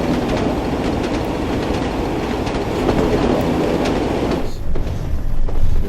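A train carriage rolling steadily on rails in the Train Sim World 5 railway simulator, heard as a loud continuous rumble with rhythmic wheel clatter and a brief shift in tone near the end, no talking.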